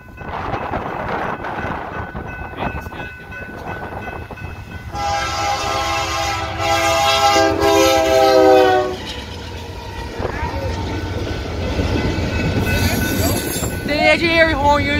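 A freight train carrying airplane fuselages rolls past close by, wheels squealing loudly against the rails, with a long blaring horn in the middle and rumbling cars throughout; a voice talks briefly over it.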